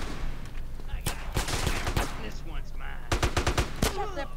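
Gunfire in GTA San Andreas, rapid bursts of game gunshots in quick clusters over a steady background, fairly loud, with some faint voice mixed in.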